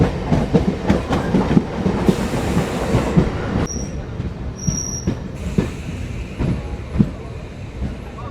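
A passenger train bound for Bethuadahari rolls along with loud, close rumble and rhythmic clickety-clack of wheels over rail joints, with brief metallic squeals and faint voices inside the carriage.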